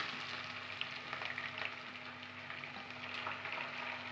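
Onion and curry leaves fry steadily in hot oil, giving a continuous close sizzle with faint crackles and pops and no voices.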